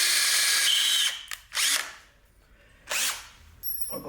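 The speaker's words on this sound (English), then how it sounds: "I gotta be careful or I'm gonna break this drill bit." Power drill turning a drill bit in three separate bursts, each a loud, close whine that starts, runs under a second or so and stops, with quiet gaps between and no talking.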